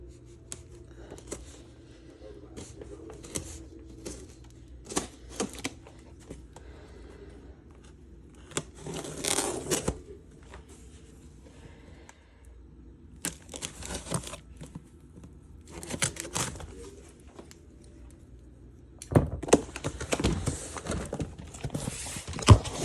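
Packing tape on the shipping box of an AIXZ AIC45 plasma cutter is sliced and torn open. The short ripping and crinkling bursts come close and irregular, with quieter rustling and handling in between.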